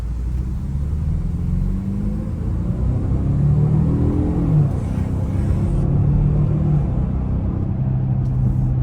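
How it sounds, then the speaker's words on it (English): Turbocharged 2025 Jaguar F-PACE R-Dynamic S accelerating, a steady low engine rumble heard from inside the cabin, with tones rising and falling as it pulls. "I don't know if I'm hearing a turbo or not. I think I am."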